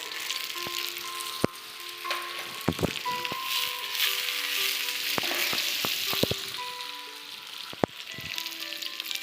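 Diced onion fries in a stir-fry pan for vegetables in Schezwan sauce, giving a steady close sizzle broken by sharp clicks and taps of a utensil against the pan, with no voices.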